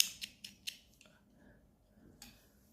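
Scissors cut brown yarn during a crochet project: a quick run of three or four crisp close snips, then a pause and one more soft snip in a quiet room.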